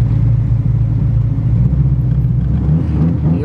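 A Chevrolet Monza engine with a loosening exhaust runs close and loud, a rough low rumble with uneven pulsing and a brief rise in revs near the end.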